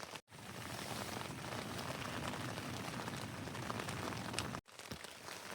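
Heavy rain pours down on a wild campsite at the Sweden-Norway border in a dense, constant roar, broken by two brief silent cuts.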